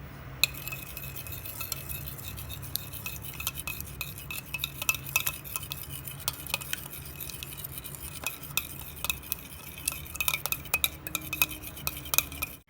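Semolina pudding mixture is beaten steadily in a bowl, making a continuous rapid clicking and scraping rhythm of utensil against vessel, close and fairly quiet throughout.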